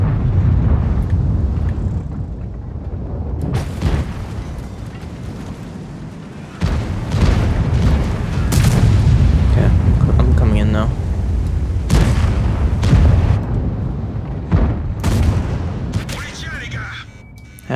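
Tank cannon shots in the World of Tanks video game during a duel with a Badger tank destroyer: several heavy booming blasts with rumbling tails across a loud, busy battle soundscape, with a voice talking throughout.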